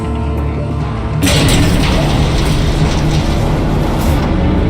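A train in the video game Batman: The Telltale Series, starting with a sudden heavy boom and then a loud, steady rumbling roar of railcars that keeps going until the end.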